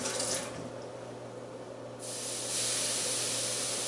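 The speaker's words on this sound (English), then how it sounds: "we got a nice sizzle going" Broadband sizzling hiss throughout, swelling louder partway through, as water spits on a hot skillet at close range.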